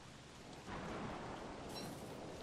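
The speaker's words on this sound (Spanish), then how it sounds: "Y tormenta también" Thunderstorm with steady rain in the survival game Don't Starve, a broad continuous roar of downpour that swells louder partway through, with distant rumbling thunder beneath.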